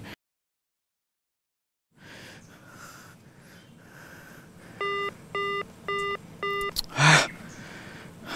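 A telephone redials, giving four evenly spaced electronic ringback tones after a short silence, followed by a louder burst of breath or static.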